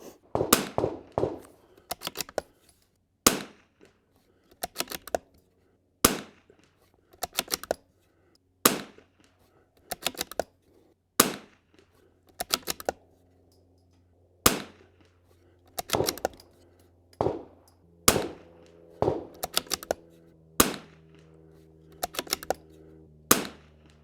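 Rifle shots fired through a scope at a two-inch target ring out as sharp, loud cracks, about sixteen spaced a second or two apart, with faint low rumble and hum between them.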